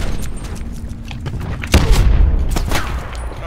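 A mesh mine blowing up in the shooter game Call of Duty Black Ops 4, a sudden deep boom midway through over a rumbling low background of gunfire and game noise.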